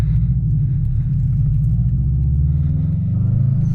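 Subaru WRX engine with an HKS blow-off valve at light throttle: a loud, deep, burbling exhaust rumble, steady and close, with a rhythmic pulsing texture that swells slightly toward the end.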